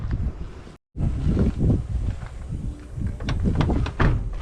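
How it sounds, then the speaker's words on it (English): Strong wind buffets an outdoor microphone in a loud, continuous low rumble with gusty surges, interrupted by a brief dropout near the start. "Do apologise for the wind noise."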